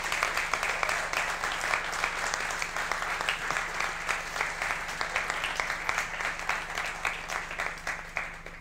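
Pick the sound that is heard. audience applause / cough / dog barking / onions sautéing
audience applause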